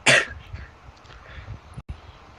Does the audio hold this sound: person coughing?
yes